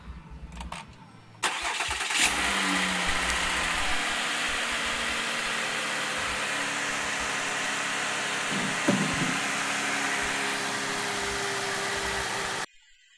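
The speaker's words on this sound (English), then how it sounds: "before I check my levels, I always start up the car" A car engine cranks and catches, then settles into a steady, fairly loud idle that runs on without voices before cutting off at the end.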